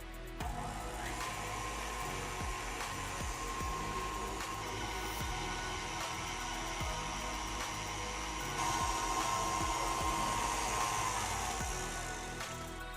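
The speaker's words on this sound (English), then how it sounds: "I'm gonna run the mixer for 2 minutes on medium setting." An electric mixer runs steadily on medium, beating a batter that includes crushed pineapple for a Hawaiian dessert pizza, a continuous, fairly quiet motor whir with faint clatter underneath and no talking.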